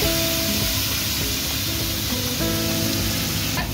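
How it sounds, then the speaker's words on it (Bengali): Ground paste of cashew, poppy seed, melon seed, chili and ginger hitting hot oil in a pan for a Bengali prawn malai curry, giving a steady, loud close sizzle with faint clinks and a tonal hum underneath. "মিক্সিতে যে মশলাটা কাজু, পোস্ত, চালমগজ, লঙ্কা, আদা ফাদা বেটেছি এই তেলের মধ্যেই আমি দিয়ে দিলাম।"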